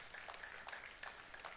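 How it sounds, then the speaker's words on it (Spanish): Audience applause at a church sermon, a fairly faint, steady wash of clapping from a congregation, with a few sharper bursts standing out. "Dale un aplauso al Señor"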